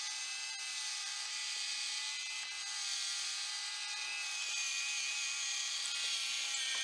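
Ultrasonic robot switched on and turning, a steady high-pitched whine with faint buzzing overtones that holds continuously at moderate level, with no talking.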